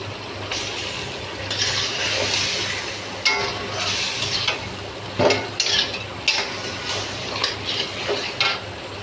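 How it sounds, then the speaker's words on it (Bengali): Fish head and spices frying in a pan while being stirred, a steady loud sizzle with scraping stir strokes and clinks of a utensil against the pan throughout. "এখন আমি মাছের মাথাটা দিয়ে ভালোভাবে কষিয়ে নেব।"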